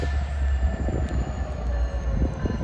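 A local train passing on a rainy day in Rochelle gives a steady, close rumble of wheels and cars with a faint high metallic whine running throughout. No voices are present.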